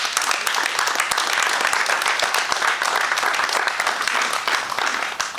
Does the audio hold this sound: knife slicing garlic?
no